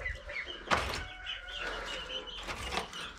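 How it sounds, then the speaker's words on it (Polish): A window in a hot room being opened with a soft thunk and a sliding knock, quiet and close, while birds chirp faintly outside. "Okno otworzę, bo gorąco tu dosyć"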